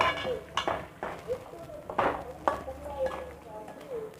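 Chicken is tossed with masala in a pot. Soft scraping and clinking knocks come in uneven bursts, close but fairly quiet, while someone speaks over them.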